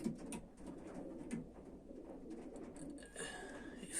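Blue pigeons in a loft give soft, low repeated coos amid faint rustling and background murmur, fairly close but quiet.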